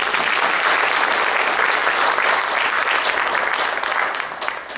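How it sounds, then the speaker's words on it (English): Audience in a library at a Latin ensemble performance gives a polite golf clap, steady dense applause filling the whole stretch without talk, tapering slightly at the end. "that's not a big hand, that's something like a golf clap"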